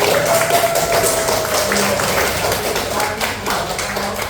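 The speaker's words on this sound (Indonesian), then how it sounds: "Tepuk tangan dong buat Radit." Children in a classroom clap their hands in a brief, uneven round, a steady patter of claps with voices and classroom noise mixed in.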